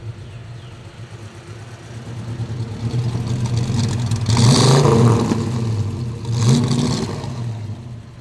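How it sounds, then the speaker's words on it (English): A classic Ford Mustang engine idles with a low rumble, then revs up twice in quick, loud bursts before settling back to idle. "Couple of baby revs for you guys."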